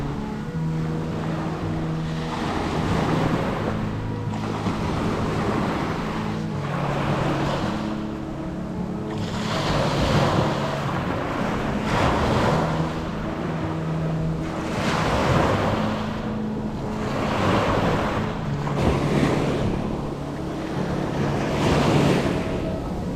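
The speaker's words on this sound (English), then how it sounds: "It was some random website said this was the best beach in Connecticut." Ocean surf rolls in at a Connecticut beach, with wind buffeting the microphone. Loud, repeated wave crashes swell and recede every few seconds over a constant roar.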